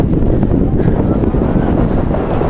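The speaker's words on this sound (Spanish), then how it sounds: "pero hay un ventarrón" Strong wind buffets the microphone on the Maspalomas sand dunes in Gran Canaria at sunset, a loud, continuous roaring rumble with no pauses.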